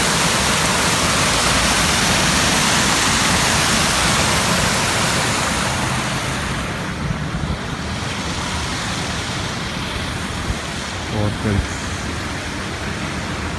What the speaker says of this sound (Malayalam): ഇവിടെ ഒരു അടിപൊളി വാട്ടർ ഫൗണ്ടൻ ഉണ്ട്.